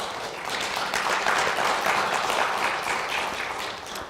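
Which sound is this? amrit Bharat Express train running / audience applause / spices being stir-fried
audience applause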